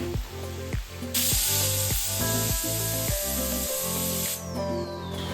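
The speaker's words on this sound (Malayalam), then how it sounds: "ചെറിയുള്ളി ഇട്ട് കൊടുക്കാം ഇനി നമുക്ക് സവാള പച്ചമുളക് ചതച്ച് വെച്ച വെളുത്തുള്ളി ഇഞ്ചി ഇട്ട് വഴറ്റിയെടുക്കാം" Shallots, onion, green chili, garlic and ginger sautéing in a pan for Kerala-style duck roast, a loud, steady sizzling hiss with rhythmic scraping strokes of a spatula throughout.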